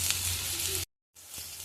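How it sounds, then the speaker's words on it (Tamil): Green chillies sauté in a hot pan for masala dosa filling, giving a loud, steady, close sizzle, briefly cut to silence and then resuming. "பச்சை மிளகாய் இது கொஞ்சம் வதங்கட்டும்."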